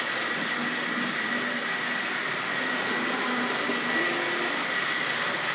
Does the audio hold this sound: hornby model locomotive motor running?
yes